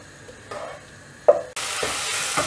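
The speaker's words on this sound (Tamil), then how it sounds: "வெங்காயம் பூண்டு நல்லா வதங்கின உடனே தக்காளி ஆட் பண்ணிவிட்டு இதை நல்லா வதக்கிடலாம்" Tomatoes sautéing with onion and garlic in a pan for a mochai kara kuzhambu, quiet at first, then a sharp clack of a utensil followed by a loud, steady sizzle.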